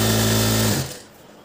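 Sewing machine stitching the lining of a blouse, running with a steady, close motor whir for about three-quarters of a second before stopping abruptly into quiet.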